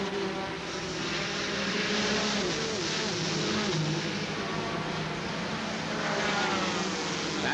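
Busch Grand National stock cars racing at Dover International Speedway in 1990, a steady loud roar of engines with no break, rising and falling slightly as cars pass the lead-lap positions.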